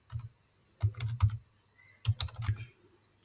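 Clicky typing on a computer keyboard while entering a search, two separate bursts of close, quick keystrokes with short pauses between them.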